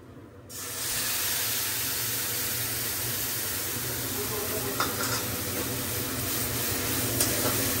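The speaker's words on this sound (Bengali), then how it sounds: "এখানে রসুন গুলো ভাজা ভাজা," Garlic frying hot in a pan, a loud continuous close sizzle and hiss that starts abruptly and holds steady, with a couple of faint clicks.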